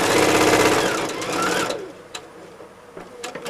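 Close-up sewing machine stitching fabric pieces together runs in a quick, rhythmic burst, slows briefly, then stops, leaving a few light clicks and handling sounds.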